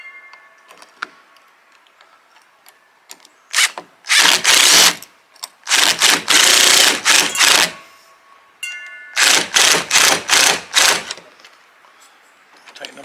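A bolt and nut are tightened through the windshield of an Intimidator 750 Classic side-by-side while a passenger handle is fitted, giving three loud bursts of buzzing, ratcheting power-tool noise separated by quieter pauses.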